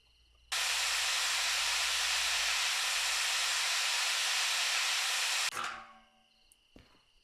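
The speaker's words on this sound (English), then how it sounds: "Now, we have a paint sprayer full of sand." A paint sprayer loaded with sand in the train game Derail Valley lets out one loud, steady hiss for about five seconds, then cuts off abruptly and leaves a short decaying tail.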